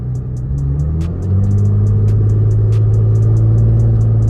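A V6 Camaro fitted with an 80mm throttle body rumbles loudly close by, its engine note rising and then holding at higher revs, with faint repeated ticking over the top.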